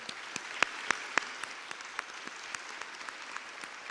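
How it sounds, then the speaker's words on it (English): Light applause from a small audience at a mayoral candidates' forum, scattered individual claps standing out over a soft steady patter, fairly quiet. "Give them a nice round of applause."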